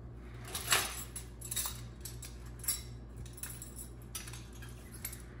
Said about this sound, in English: Now it's time for the silverware, which usually goes in this silverware cart.